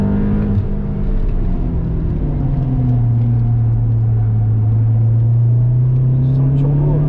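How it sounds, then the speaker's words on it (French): A turbocharged car accelerates from inside the cabin, its engine drone rising and holding steady at a loud, close level, with people talking over it. "Tu sens le turbo."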